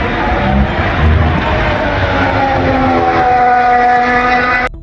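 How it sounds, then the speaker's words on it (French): The Audi R26 Formula 1 car's turbocharged V6 accelerates on track, a loud continuous engine drone with harmonics that climb in pitch, then cut off abruptly at the end. "Côté moteur, la R26 semble assez coupleuse et ça s'entend lors des phases d'accélération."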